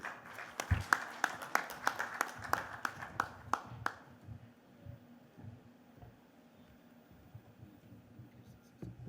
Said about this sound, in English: Please give a resounding round of applause